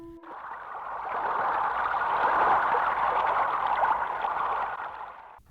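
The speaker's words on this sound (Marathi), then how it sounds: "खाली उतरल्यानंतर सतत कानावर पडणारा पाण्याचा खळाळता नाद" A monsoon waterfall stream in the Konkan hills rushes and gurgles steadily, a continuous hissing wash of water heard from close by without any voices.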